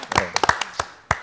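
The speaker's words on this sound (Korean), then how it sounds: "박수로 환영합니다." Scattered hand claps from a small audience greeting a guest on a Korean Christian talk show, a handful of separate sharp claps spread across a brief moment.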